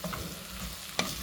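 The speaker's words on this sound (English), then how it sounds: "Now stirring it." Pilau rice frying in a pot is stirred, giving a soft continuous sizzle with one sharper scrape of the utensil near the end of the short stretch.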